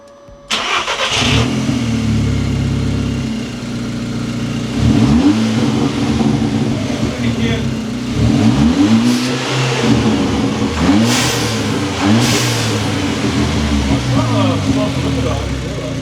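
An Audi TT engine with a new RamAir intake starts in a garage and then revs repeatedly, with several sharp throttle blips rising and falling over a steady idle, close by.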